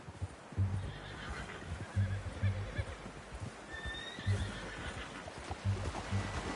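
A horse in the video game Red Dead Redemption 2 whinnies a couple of times over steady hoof clops and low rumbling ambience, moderately loud and fairly close.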